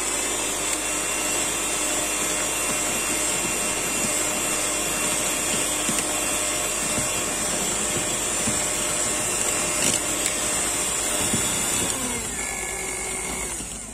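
Electric mixer whipping eggs with sugar into a génoise sponge batter for a rolled cake. It gives a steady, close, continuous whir that runs unbroken for the whole stretch with no talking.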